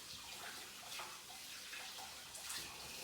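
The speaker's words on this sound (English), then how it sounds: "Definitely want to get some water in the pot so that it doesn't stick." Tap water runs steadily into a cooking pot coated with leftover homemade play dough of flour, salt and oil, a faint continuous rushing splash with no voices.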